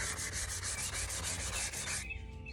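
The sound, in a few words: sanding glittered tumbler with fine grit sandpaper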